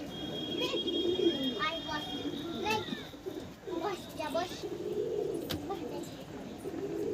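Kalanka pigeons in a rooftop loft, several soft rolling coos repeating close by over a low background murmur with some distant noise.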